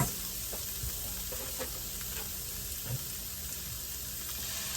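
Continuous sizzling of taco seasoning in a hot pan with a few soft scrapes of stirring, steady and close, no voices.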